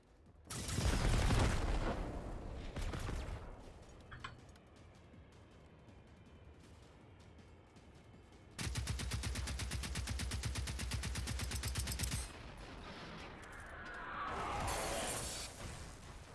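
Firebird robot opening fire in Generation Zero, a loud burst of rapid automatic shots lasting several seconds, with shattering impacts and booming blasts before and after, no voices.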